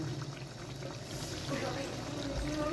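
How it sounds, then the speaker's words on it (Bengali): Water poured into a cooking pot of chicken, a soft, steady liquid splashing and bubbling hiss, quiet and close, under someone talking. "হালকা একটু জল দিয়ে চাপা দিয়ে রেখে দেবো।"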